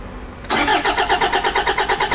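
Car engine on a truck hauling wood cranks briefly, catches and settles into a loud, close, steady rhythmic idle.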